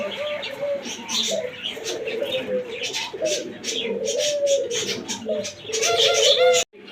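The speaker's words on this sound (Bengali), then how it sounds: "অস্ট্রেলিয়ান ঘুঘু দেখেন হোয়াইট কালার" A white pair of Australian diamond doves coos repeatedly in soft, low, rolling phrases, close by, with chirps and bird chatter from other birds in the background throughout.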